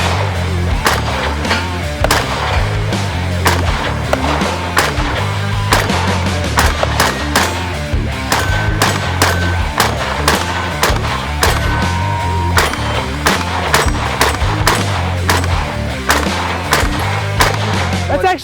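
Rifle shots ring out on a range at the FN America facility. Sharp, loud cracks come in quick irregular bursts and single reports, layered over a steady low hum, with a few brief voices between shots.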